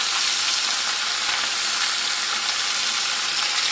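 Food seasoned with turmeric fries in a pan, giving a steady, close, even sizzle that carries on without a break and with no talking.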